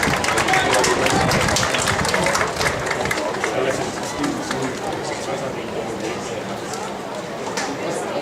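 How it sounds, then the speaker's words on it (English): Applause at a high school graduation ceremony swells from a large audience, dense clapping and crowd chatter that is loud at first and gradually thins, with voices mixed in. "Take a round of applause"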